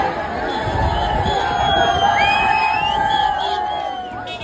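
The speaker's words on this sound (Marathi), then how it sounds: "गर्दी बघा" A huge cheering crowd gathers at Marine Drive, Mumbai, for the Team India meet-up, with loud whoops, shouts and a constant roar of chatter swelling steadily throughout.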